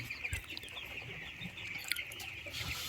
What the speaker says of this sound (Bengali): মুরগিকে ফিড দেওয়া হচ্ছে।